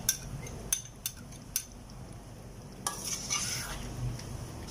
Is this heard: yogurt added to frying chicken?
yes